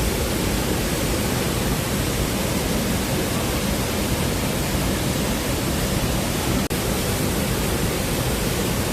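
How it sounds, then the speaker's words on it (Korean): A roaring waterfall near Seoul pours in a dense, unbroken broadband rush, loud and close, steady for the full length with a single tiny click near the end. "첩보 소리가 정말 우렁차죠"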